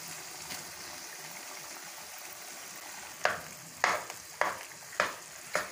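Spoon stirring boiled, mashed potatoes into frying masala in a pan, with a steady sizzle, then five distinct scraping, splatting stirs in rhythm near the end, close and fairly loud, with no talk.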